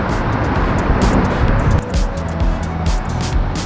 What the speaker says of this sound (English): You also get to hear the roar of the traffic above.